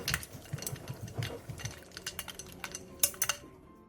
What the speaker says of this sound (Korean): 생수 3컵과 통깨, 얼음을 넣고 골고루 섞어주세요.